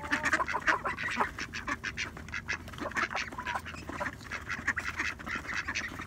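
Newly hatched waterfowl chicks and their parents call close by, a busy run of quacks and honks mixed with rapid high peeps, with no talk.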